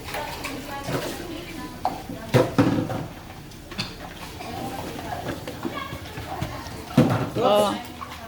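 Dishes being washed by hand at a team-building challenge, with scattered clinks and clattering scrubbing sounds under near-constant talk and laughter from several people.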